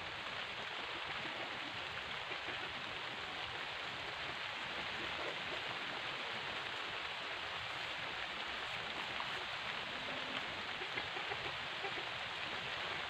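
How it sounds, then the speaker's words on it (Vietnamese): Heavy rain pours down in a garden, a dense, steady broadband hiss that stays loud and unbroken throughout with no voices over it. "Trời ơi, đang mưa anh em ạ."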